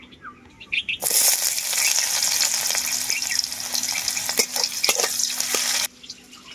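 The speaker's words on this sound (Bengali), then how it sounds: "এরপর ওই আলু ভাজা তেলের মধ্যেই দিয়ে দেবো কুচনো পেঁয়াজ" Chopped onion drops into hot oil left from frying potatoes, setting off a sudden loud sizzle that crackles steadily for several seconds and then cuts back to quiet.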